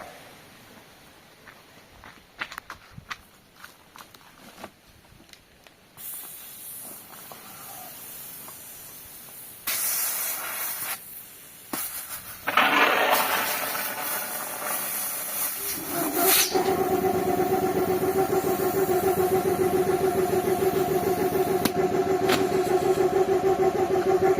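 A jack is operated, beginning with scattered clicks and handling knocks, then bursts of hiss, and finally a steady mechanical whirring hum that carries on loudly to the end.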